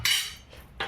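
A metal kadhai wok is set down on a kitchen stove, making a bright clatter at the start, then a quieter clink and a second sharp metallic knock near the end.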